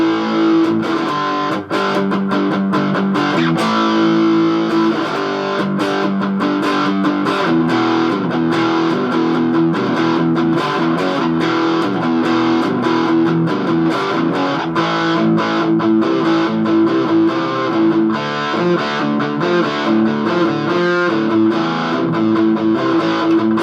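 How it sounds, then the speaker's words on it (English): An electric guitar played through a Blackstar HT-5 tube amp head and 1x10 cabinet with distortion engaged, thick sustained chords and riffs, loud and continuous throughout. "So I say we throw some distortion on this thing."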